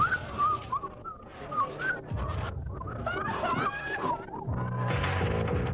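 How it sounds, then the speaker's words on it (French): Many people whistle through cupped hands together in a high, warbling, bird-like chorus, rising and falling in pitch, with crowd noise swelling toward the end. "OK, on siffle dans nos mains."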